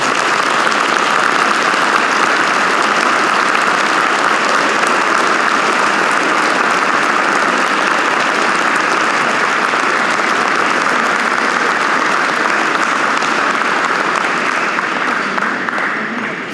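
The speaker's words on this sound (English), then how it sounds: "Would you give them all, please, a big round of applause?" An audience at an aviation hall of fame ceremony gives a long, steady round of applause, dense and even throughout, tapering slightly at the end.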